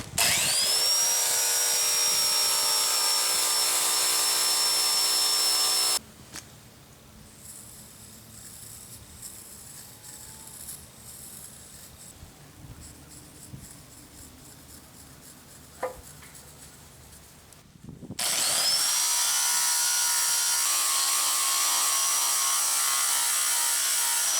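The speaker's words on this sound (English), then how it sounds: "Surprisingly, I get much better results with a 7-inch grinder." A 7-inch grinder polishes the table of a Yates American J180 being restored. A loud, steady whine runs at the start, gives way to a quieter stretch with faint scraping, then returns just as loud near the end.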